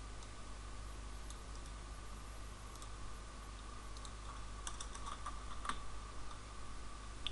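Sparse, soft keystrokes on a computer keyboard as code is typed for a Windows Phone app, with scattered clicks over a steady background hum and no talking.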